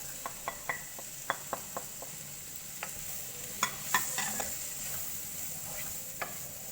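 Turmeric, fennel, chilli and coriander powders frying in a pan with a faint, continuous sizzle, punctuated by light, regular taps and scrapes of a stirring spoon close by.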